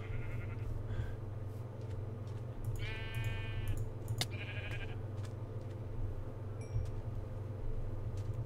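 Sheep in a video game bleat several times, a few short wavering calls close by over a steady low ambient hum, with scattered small clicks and no speech.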